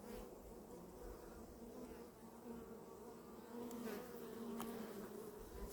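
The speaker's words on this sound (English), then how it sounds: "You can hear the bees buzzing in that tree from probably 10 feet away." Honeybees buzzing at a hive during an inspection, a faint steady droning hum with a few louder passes of nearby bees.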